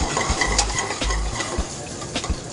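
Dried grapes caramelize in a very hot pan with a loud, crackling sizzle, broken by scattered scrapes and clinks of a utensil, close up with no talking.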